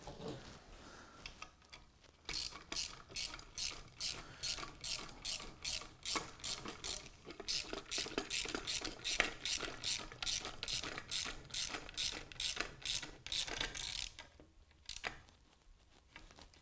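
A ratchet turning a bolt on a 3D printed miniature train, clicking in a rapid, regular series of crisp pawl snaps across several strokes, close and alone with brief pauses at start and end.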